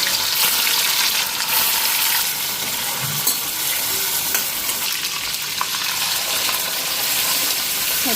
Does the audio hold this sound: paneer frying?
yes